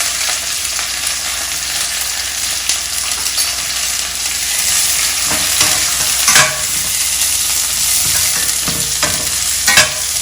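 Onion, green chillies and curry leaves fry in a hot pan, giving a steady bright sizzle throughout, broken by a few scraping stirs near the end.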